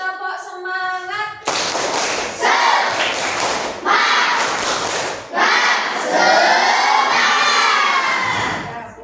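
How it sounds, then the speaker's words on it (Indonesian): School class of seventh-grade children doing the tepuk semangat spirit clap: a loud group chant with rhythmic clapping and shouting in bursts, after a brief sung cue from a single voice. "Coba tepuk semangat."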